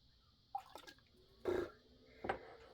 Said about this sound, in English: I'm going to put a little drop in.